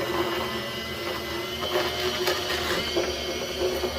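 A VEVOR 45W electric deli meat slicer hums steadily as its spinning blade cuts through an unsliced sourdough loaf, a close, continuous motor whir with faint grinding texture.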